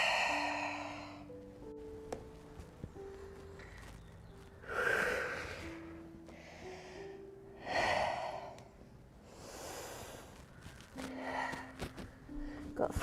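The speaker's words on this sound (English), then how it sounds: "Just lovely controlling breaths," Slow controlled breaths during a Pilates exercise, several long airy exhales in an even rhythm, close, with a voice speaking softly between them.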